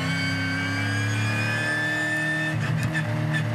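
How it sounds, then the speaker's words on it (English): Supercars race cars roll down the pit straight at Albert Park in Melbourne behind a safety car, their engines a steady loud drone with tonal whine, rising into revving and passing noise near the end. "Still under the control of the safety car as the cars roll down pit straight at Albert Park"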